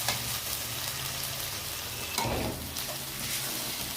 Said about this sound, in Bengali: দিয়ে আমরা মশলাটাকে কষিয়ে নেব।